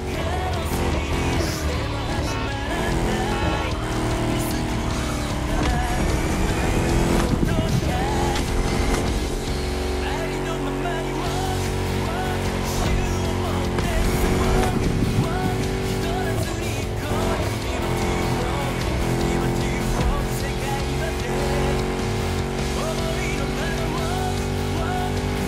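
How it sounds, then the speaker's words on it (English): Chrysler SRT8 with a V8 Hemi engine racing in The Crew Motorfest, Liberty Walk event: a loud, steady engine roar runs throughout, with pitch climbing and shifting as the car accelerates, blended with dense game sound. "With a V8 Hemi under the hood, you're more than a basic luxury sedan."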